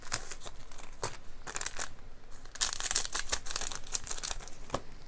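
A Japanese Pokémon Silver Lance booster pack is crinkled and torn open by hand, a close run of sharp foil crackles and rips in uneven bursts, with no talking.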